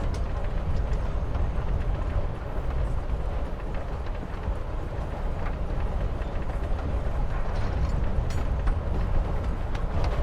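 Steady rhythmic rumble and clatter of a train ride in the game Life is Strange Before the Storm, loud and continuous without break or voices.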